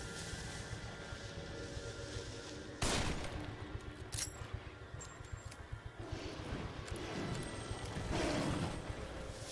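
Gunshots in the horror video game The Evil Within, a sharp loud blast near the three-second mark followed by scattered fainter shots and crackling over a steady ambient rumble, with no talk.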